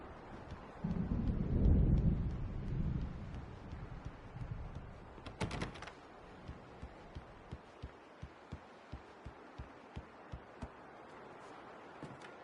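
A storm approaching in the game Alan Wake, heard as a deep rolling rumble of thunder early on, followed by a sharp crack and then quiet ambience with soft regular ticking.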